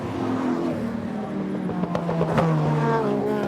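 A Ford Sierra touring car races at Oran Park in 1991, its engine droning loudly and shifting in pitch as it climbs through the revs, mixed with the steady rumble of trackside noise.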